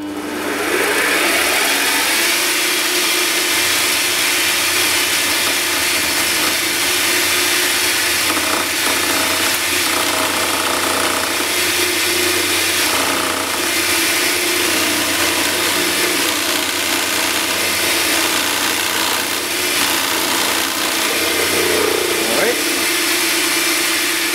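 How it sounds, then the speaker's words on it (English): A micro lathe drills a lead hole with a twist drill bit, its motor whirring steadily and close throughout, with a voice speaking over the machining. "I'm gonna drill the first lead hole."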